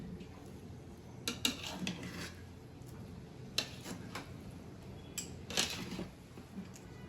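Cooked pilaf being emptied out of a pressure-cooker pot in a home kitchen, with a few scattered clinks and scrapes of a utensil against metal over a quiet background.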